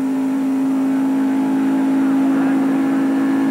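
NASCAR stock cars racing at the 1993 Daytona 500, a loud, steady high-pitched engine drone holding one sustained tone throughout.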